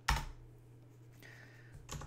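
A command is typed on a computer keyboard in Rhino 6 3D modeling software, heard as soft, quick key presses in a short burst at the start and again at the end, with a faint steady hum in between and no voices.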